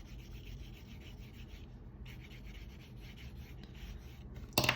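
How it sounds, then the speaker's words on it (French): Eraser rubbing on paper while tidying a Naruto emoji drawing, a soft continuous scratchy rub repeating in short strokes, close and fairly quiet, ending in a brief louder scrape. "on vient gommer pour rendre un peu plus propre"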